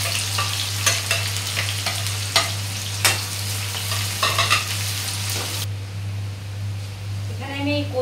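Chopped onions and nigella seeds frying in hot oil, a close hissing sizzle with stirring scrapes and clinks that drops to a quieter hiss, a voice speaking near the end.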